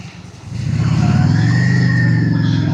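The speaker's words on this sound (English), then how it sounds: "Oh, and a tractor." A tractor's steady low engine drone rises and holds, loud and close as it rumbles past on a Lake District road, with a faint whine above it.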